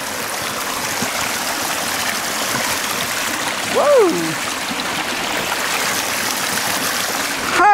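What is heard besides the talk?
river stream flowing on Homeros hiking trail, Turkey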